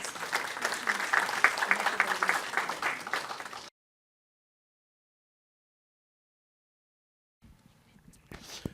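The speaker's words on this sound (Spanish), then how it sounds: "Un aplauso, por favor, para ella." A seated audience at a healthy-eating panel in Peru gives dense, close applause for several seconds that stops abruptly, leaving near silence before faint room noise returns.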